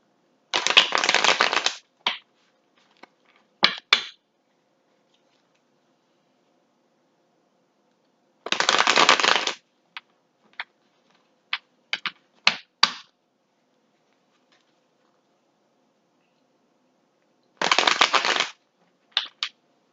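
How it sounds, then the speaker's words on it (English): Tarot cards shuffled by hand in three bursts of dense riffling a few seconds each, separated by long silences, with a few sharp taps and snaps of the deck between bursts; close and clear, no talking. "I shuffle the cards until I feel that my guides are telling me I shuffled enough"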